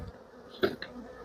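Honey bees buzz softly and close by during a hive inspection, with a brief louder swell of wings partway through.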